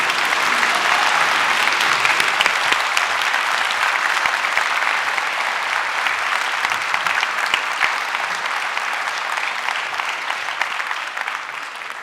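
An audience at a university physics lecture by Dr. John Mather on the history of the universe claps in loud, sustained applause that holds steady for about twelve seconds before easing slightly.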